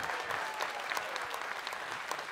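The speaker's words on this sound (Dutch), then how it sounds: "Geef hem maar een groot applaus." A studio audience at a Dutch music television show claps steadily and fairly loudly throughout, a dense, even wash of applause with no talk over it.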